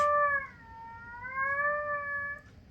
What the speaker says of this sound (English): It starts off with howls.